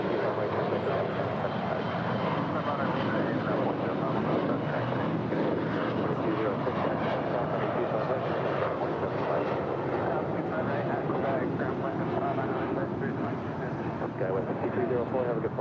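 A Boeing 787-9 Dreamliner of Air Tahiti Nui departs from LAX, its jet engines producing a steady, broad roar at a distance, while people talk over the sound throughout.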